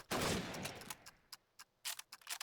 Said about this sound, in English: Pelican with the stolen PPS. Oh, nice headshot.